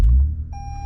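A Toyota Camry XSE V6 gives a short electronic startup chime as the car is switched on, a clear tone ringing out after a brief low thump, loud and close.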